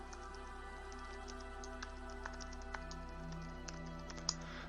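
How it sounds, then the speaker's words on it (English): Computer keyboard keys tapped one at a time at an unhurried pace, light clicks over a steady electrical hum and faint background drone, no one speaking. "So let's say actually I will type"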